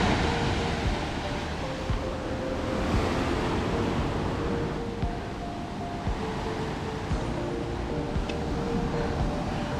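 Waves washing onto a secluded beach in Spain, a steady broad roar of surf with wind rushing across the microphone, continuous and fairly close with no speech.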